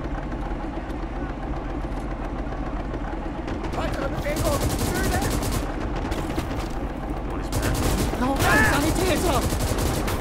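A World War II swamp battle in Gates of Hell fills with constant rattling gunfire and machine-gun bursts, heavy and continuous with explosive thumps, someone speaking under the din.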